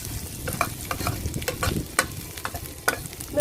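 Garlic frying in hot oil until golden for a Thai nam prik chili paste, with a steady close sizzle broken by irregular scrapes and clacks of a utensil stirring the pan.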